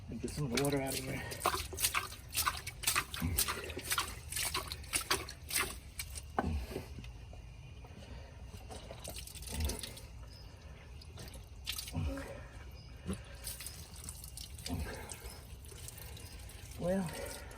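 Water draining and dripping out of a pool filter housing, with splashy trickles, drips and wet squishing from close by, plus bursts of handling clatter and occasional low-level talk.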